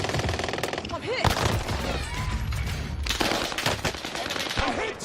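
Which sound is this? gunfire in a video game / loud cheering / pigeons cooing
gunfire in a video game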